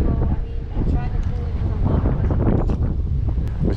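Strong wind buffets the microphone outdoors during a bass fishing outing in Dallas, Texas, as a low continuous roar that partly covers people talking nearby.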